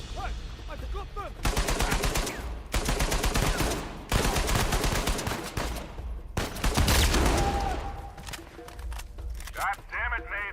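Rapid bursts of gunfire from a PlayStation 3 video game, dense volleys that stop and restart several times over a steady bed of game sound, with a short tonal beep near the end.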